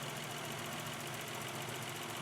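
A Toyota engine idles steadily during an induction system cleaning, producing a continuous, even mechanical hum with a faint rhythmic knock, close and alone without any talk.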